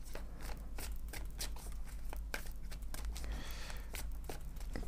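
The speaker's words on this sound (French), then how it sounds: "On va commencer par une coupe." A deck of tarot cards being cut and shuffled by hand, steady fast papery riffling and flicking close up, soft and continuous throughout.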